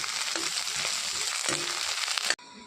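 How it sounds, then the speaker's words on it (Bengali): Onion, curry leaves and dried red chillies fry in hot oil for a dal tempering, making a loud, close, continuous crackling sizzle that cuts off abruptly near the end. "কারি পাতা দিয়ে শুকনো মরিচ দিয়ে দেব। সব কিছু দিয়ে ভেজে নেব।"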